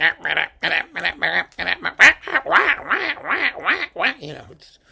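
Oboes imitating a clucking hen in a recorded Haydn orchestral piece conducted by Barbirolli, heard as a quick rhythmic series of nasal, reedy bursts, loud and close, running for about a dozen pulses before fading.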